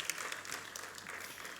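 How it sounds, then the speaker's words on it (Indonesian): A church congregation claps in praise to Jesus during a worship service, a short, quiet burst of applause lasting under two seconds, sounding distant and soft. "Boleh kasih tepuk tangan yang paling luar biasa buat Yesus Tuhan hari ini"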